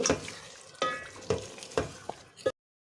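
Half a kilo of chicken meat fries in a thick masala, sizzling under repeated scraping stirs of a spoon against the pan at a slow rhythm, close and clear, before cutting to silence.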